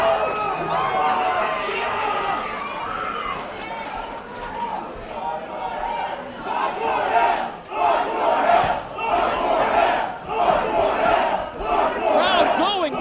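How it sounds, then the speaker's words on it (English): A wrestling crowd at an NWA Wildside Hardcore Hell 2002 title match cheers and yells wildly, a dense sustained roar that swells louder in the second half, with a commentator talking over it. "Crowd going nuts."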